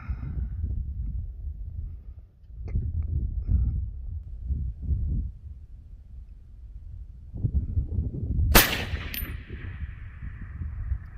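A single loud rifle shot, an AR10 in .308 or an AR15 in 22 Grendel fired at a long-range target in the wind, cracks sharply after several seconds of low outdoor rumble, its report trailing off briefly.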